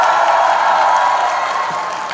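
Audience at a Seongju volunteers' day event clapping and cheering for a singer, a dense, loud wash of applause and whoops that holds steady, then eases slightly toward the end.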